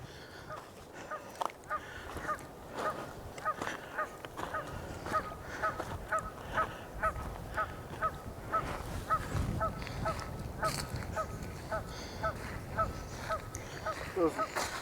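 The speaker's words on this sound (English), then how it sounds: "Those Canadian geese, man. They're so loud." Canada geese honk repeatedly in a loud, rhythmic series from a flock near a sandy lakeshore beach on a Yosemite backcountry trail, the calls steady over faint background noise.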